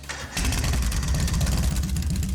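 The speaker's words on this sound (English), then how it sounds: "Right then, first is starting up the engine." A motorbike engine in a video game cranks and catches after a brief quiet moment, then settles into a steady, pulsing idle with slight revving.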